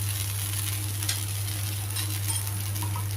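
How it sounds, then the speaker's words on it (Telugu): Chickpea flour dosa frying crisp on a hot pan over high heat, a continuous close sizzle with a steady low hum of the stove underneath and no talking. "ఇప్పుడు హైలో పెట్టుకుని కాల్చుకుంటే మంచి క్రిస్పీగా రెడీ అవుతుంది మనకి దోశ"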